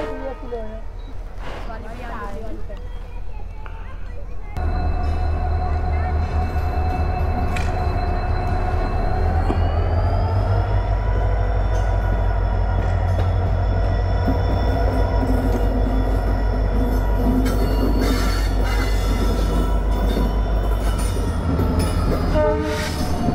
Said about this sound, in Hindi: तो इधर से आ रही है ट्रेन, वो देखो वो तो बहुत स्लो स्लो चल रही है।